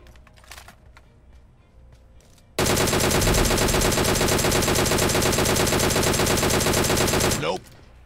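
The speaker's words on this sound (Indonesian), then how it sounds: "Kaget temen gue nembak gue." Sustained rapid automatic gunfire in a mobile battle game, a loud continuous burst lasting about five seconds that starts abruptly and cuts off, after quieter background game noise.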